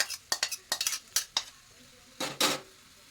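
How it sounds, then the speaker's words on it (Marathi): Dried shrimp stirred into potatoes in a pan: a string of sharp utensil scrapes and clinks against the metal, followed by a softer sizzling sweep, close and alone. "मी आता ह्याच्यामध्ये सुकी कर्दी टाकतो बघा सुकी कर्दी टाकूया"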